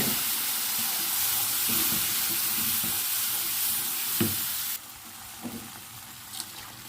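Milk pours into roasted semolina in a hot pan and sets off a loud, steady sizzle and hiss that eases a little partway through, with a few soft clinks near the end.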